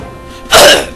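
A single short, harsh throat-clearing burst, close and loud, breaks a quiet background and trails off quickly.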